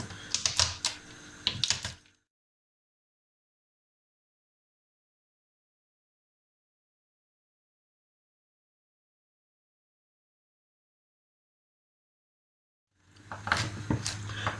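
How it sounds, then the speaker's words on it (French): Dried fruits being coarsely crushed for nougat glacé make two short bursts of rapid, clattering taps, one at the start and one at the end, separated by a long stretch of silence. "on va les concasser grossièrement"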